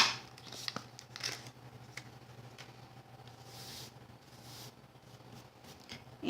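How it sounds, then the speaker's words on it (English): Scissors snip paper to cut out a small bow tie for a Halloween skeleton decoration. The cuts come as quiet, close crisp clicks and rustles over a steady low hum. "we will cut out our little bow tie for our"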